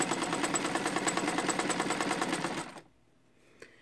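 A Japanese-made Emdeko sewing machine runs a satin stitch in a fast, even, rapid chatter close by, then stops abruptly, leaving near silence broken by a single small click.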